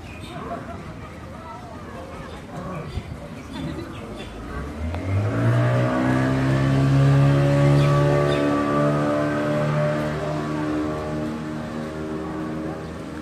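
Speedboat carrying visitors on the water at Dream Holiday Park, Narsingdi, its motor rising from a low rumble into a loud, steady whine as it passes close by, with faint voices around.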